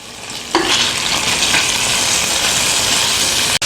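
Oxtails brown in a Dutch oven with a loud, dense sizzle that bursts in after a brief lull and then crackles steadily, with one sharp click near the end.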